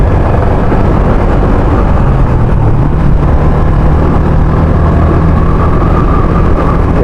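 A Sniper 150 motorcycle fitted with a UMA R1 camshaft holds a high-RPM rev, a loud, close, steady engine drone with no pause.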